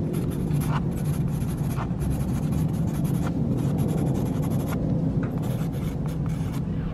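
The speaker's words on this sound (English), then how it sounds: "I just use a charcoal pencil to write the title, my name, and the date on the back of the painting" A charcoal pencil scratches steadily across the back of a painting as a title, name and date are written, giving soft continuous rubbing strokes with short pauses, close and alone.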